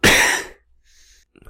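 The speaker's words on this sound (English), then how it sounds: "Sorry about that. This cough." One loud, harsh cough right up close, followed by a brief quiet rasp and a faint bit of throat noise.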